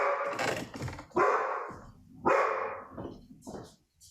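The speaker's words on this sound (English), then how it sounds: "sorry, that's my dog" A pet dog barks several times indoors during a district board meeting, loud, sharp woofs close by in irregular bursts with pauses between, then quieter yips at the end.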